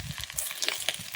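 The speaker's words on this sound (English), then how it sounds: "Hear that sizzle, that's what we want." Chopped vegetables with onion sizzle and crackle in a camp pan over a campsite stove, with bright, irregular spits and pops close to the listener and a few scraping stirs.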